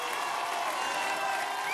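Applause from a television studio audience after a singing battle on a talent show: steady, fairly faint clapping and crowd noise, continuous and even, with no talk over it.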